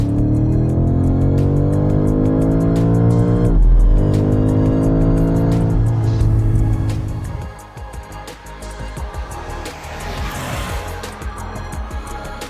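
A hybrid BMW M5 Touring engine roars as it accelerates hard, pitch climbing through the gears, then drops to a quieter, rougher rumble near the end.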